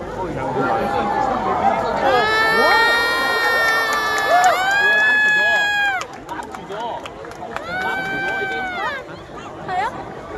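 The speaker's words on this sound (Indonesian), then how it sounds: "Kerumunan penonton menyaksikan kejadian ini dengan sorakan" A packed crowd at a concert cheers and screams, with high shouting voices rising loudly over continuous hubbub for about six seconds before easing to a lighter, still-excited roar.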